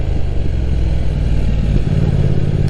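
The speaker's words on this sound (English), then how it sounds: "That's an ape. 125cc mini bike." A Honda Ape 125cc mini bike engine runs loud and close beside a lake in Japan, a steady mid-pitched thrum with continuous rumble and no clear revving.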